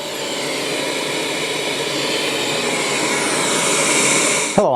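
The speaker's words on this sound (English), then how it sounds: "this is a review of the Wyze Handheld Vacuum Cleaner" A Wyze handheld vacuum cleaner runs with a steady, loud motor whine and a broad airy roar, then cuts off abruptly near the end.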